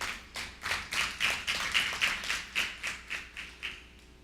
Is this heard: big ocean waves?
no